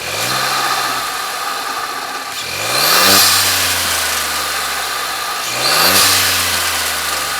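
A sports car engine idles, then is blipped twice into short rising revs that sweep up in pitch and fall back, close and loud against a steady rumbling idle.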